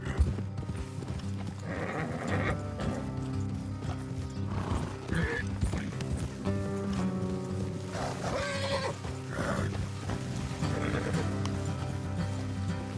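Horses clip-clop along steadily with occasional whinnies and snorts in the video game Red Dead Redemption 2, a continuous busy hoofbeat rhythm at moderate loudness.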